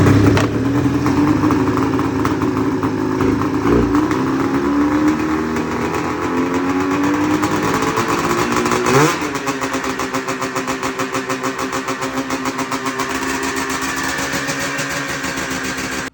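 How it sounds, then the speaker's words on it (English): An old snowmobile engine, running again after eight years idle and repair, buzzes loudly and steadily, climbs briefly in a rev near the middle, then settles into a rough, pulsing idle. "we got that sled running there now"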